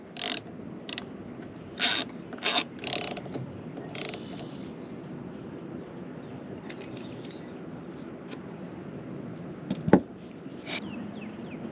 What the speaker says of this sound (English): Tighten down the bolts